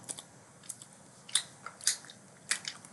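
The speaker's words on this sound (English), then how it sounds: "I got food. And you're probably gonna hear me chew." Someone chews food close to the microphone, with a series of quiet, crisp crunchy bites and chomps spaced irregularly against a faint background.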